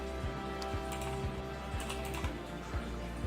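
Quick, fairly steady keystrokes on a computer keyboard while searching for an in-game item, each key a sharp close click over a constant low electronic hum, with no voices.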